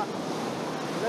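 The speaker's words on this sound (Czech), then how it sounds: "mohutné příbrové vlny se tříští" Storm-driven surf pounding a beach during a powerful January gale, a dense continuous roar of breaking waves mixed with gusting wind noise, loud and close.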